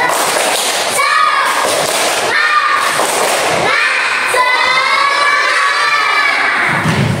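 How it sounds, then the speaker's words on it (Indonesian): Fourth-grade pupils in an Islamic religious education class perform a spirited clapping chant together. Loud, bright shouted voices rise in repeated bursts over rhythmic claps and thuds, with the whole class joining in close by. "Mari kita melakukan tepuk semangat ya."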